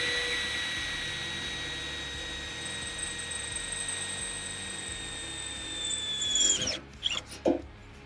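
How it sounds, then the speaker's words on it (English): A power drill whines steadily for several seconds while drilling out metal on a nerf bar step pad, its pitch dipping under load before it stops, followed by a few short clunks and scrapes. "we're going to go ahead and pick a spot here, and we're going to go ahead and drill this out"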